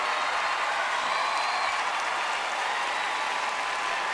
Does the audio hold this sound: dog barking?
no